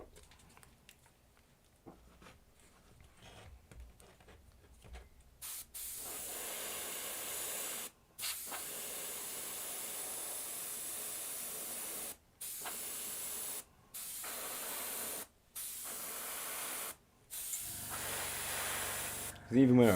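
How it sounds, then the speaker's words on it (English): An airbrush sprays thin ink paint in repeated hissing bursts, each a few seconds long, separated by short pauses, loud and close. "Because this one's a really thin ink, it runs through the airbrush pretty fast"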